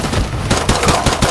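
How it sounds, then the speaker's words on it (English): Rapid gunfire in the video game Modern Warfare 2, with several sharp automatic bursts cracking in quick succession, loud and close, with no talking. "We're also taking mortar fire and gunfire from the front and left."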